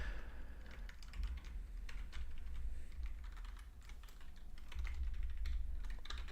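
Rapid, uneven keystrokes on a computer keyboard clatter close by for several seconds, tapping in irregular bursts over a low hum, with no voices.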